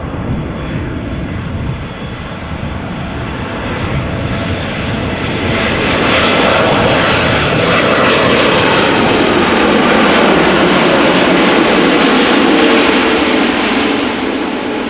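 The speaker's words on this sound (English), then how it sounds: "Nippon Cargo Airlines, Boeing 747-800 arriving from Anchorage." A Nippon Cargo Airlines Boeing 747-8 freighter arrives at Amsterdam Schiphol, a loud, steady broadband engine roar that swells gradually and holds near its peak for the full span, with no voices.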